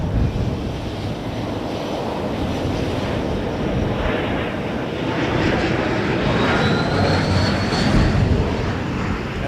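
An Embraer 175 jet airliner at Toronto Pearson airport gives off a broad, steady roar, moderately loud and slightly rising near the end, heard from a distance with wind-like rushing and no talk.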